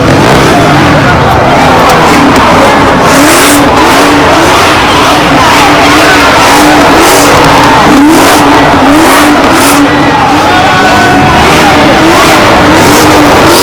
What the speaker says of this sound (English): he was put inside one car and the drifting began.